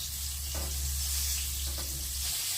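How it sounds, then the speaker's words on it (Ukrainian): Steady sizzling of capelin frying in a pan, a constant crackling hiss close by with a low hum underneath. "І ось я зараз смажу, відкрила сковорідку"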